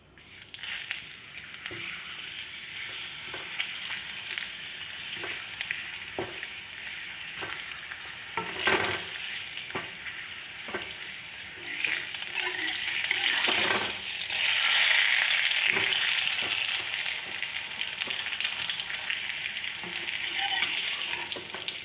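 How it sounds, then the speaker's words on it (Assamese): Papad crackling and sizzling as it fries in a pan, a steady hiss broken by scattered sharp pops and stirring clicks, growing louder toward the middle and staying close throughout with no talk. "এই পাপৰ ভাজি ল'ম"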